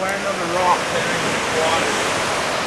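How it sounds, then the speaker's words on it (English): Heavy rushing water pours down near a river at Whistler, British Columbia, a loud, steady broadband roar filling the whole clip while a person speaks briefly over it. "Look at how much water is coming down."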